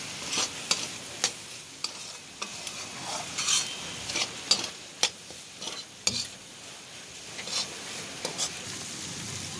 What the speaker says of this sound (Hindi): थोड़ा सा मसाला भुनने देंगे।